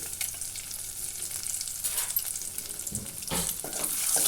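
Eggs fry in a pan with turmeric, chili and salt, a dense, even sizzle with a few louder scraping stirs near the end, close and steady throughout.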